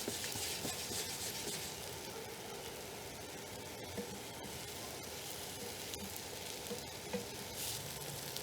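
Mushrooms and onions frying in a pan: a continuous soft sizzle and crackle with occasional small pops, steady and fairly quiet, with no talking.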